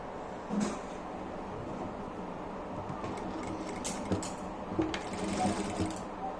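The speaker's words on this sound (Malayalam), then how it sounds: "ഒരു ചെറിയ മടക്ക് ഇങ്ങനെ മടക്കി അറ്റം വരെ സ്റ്റിച്ച് ചെയ്യണം" A sewing machine stitches along a small folded fabric edge while making a face mask, its fairly quiet steady whirr running through with a few brief handling clicks and no talk.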